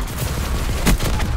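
Dense gunfire in a Call of Duty Black Ops match, continuous crackling shots with a louder burst near the end, loud and close, no talking.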